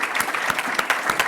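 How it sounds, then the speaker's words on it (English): Audience applause at the closing of a transitional justice event, a brief dense burst of many hands clapping, steady and fairly close with no talk over it. "Big applause, please, for Aga Khan University, the support we got from them."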